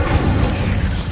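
A fiery Incendio spell blast in Hogwarts Legacy roars as a loud, dense, sustained burst of rumbling noise with no gaps, filling the whole moment.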